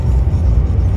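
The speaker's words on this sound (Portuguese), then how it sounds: "o caminhão vai pulando assim, fazendo blu, blu, blu, blu, blu." Truck rolling over the concrete slab joints of a road in Poland, heard as a continuous low, heavy rumble with a faint pulsing unevenness from the bumps, close and steady.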